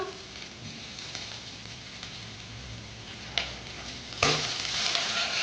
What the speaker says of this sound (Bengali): পাঁচ ফোড়নগুলো দিয়ে দিলাম